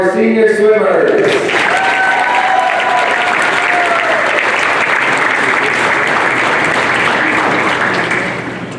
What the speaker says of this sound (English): Another round of applause for our senior swimmers.